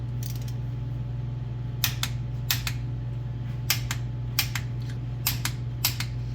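Bolts are tightened to 40 foot-pounds on an NP205 transfer case on a first-generation Cummins truck, with pairs of sharp ratchet clicks repeating in short bursts over a steady low hum.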